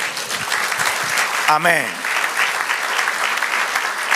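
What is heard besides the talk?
church congregation applauding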